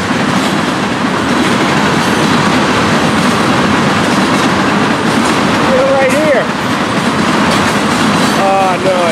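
An FEC freight train rumbles past up close, loud and steady, with rhythmic wheel clatter and brief high metallic squeals from the wheels near the end.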